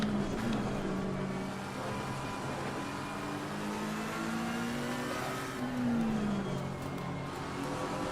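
Race car engine at the Nürburgring in Assetto Corsa Competizione, a steady loud drone that climbs and shifts in pitch under acceleration, with gear changes and a car nearby.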